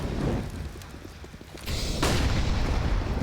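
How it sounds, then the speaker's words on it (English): A grenade explodes in Counter-Strike on Inferno during a professional IEM Katowice 2023 match, heard as a sudden loud boom with scattered gunshots and footsteps before and after, no talking over it. "Some heavy nade damage."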